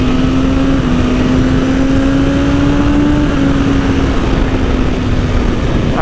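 A motorcycle engine holds a loud, steady drone whose pitch climbs slowly toward the rev limiter, close and continuous with no talking.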